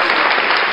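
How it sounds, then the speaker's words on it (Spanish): An audience applauds in a podcast studio, a dense, loud burst of clapping filling the brief moment without pause. "Aplausos."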